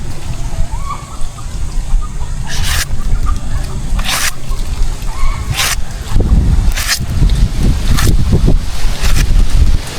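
Strong wind buffets the microphone in loud, rumbling gusts, with brief bursts of broadband noise and water or boat sounds in the background.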